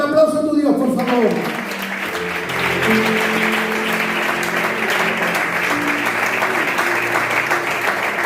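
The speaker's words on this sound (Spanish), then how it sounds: "¿Puedes dar un aplauso a tu Dios, por favor?" Sustained applause from a church congregation at a worship service, steady dense clapping that fills the room after a brief spoken opening, with a voice talking over it at times.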